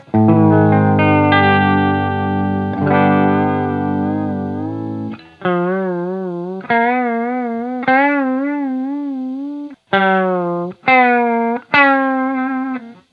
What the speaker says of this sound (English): it's controlling the pitch of my harmonist pedal